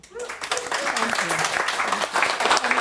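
An audience applauds after a talk on autism, ADHD and family dynamics, a dense, steady patter of clapping with voices mixed in that carries on throughout.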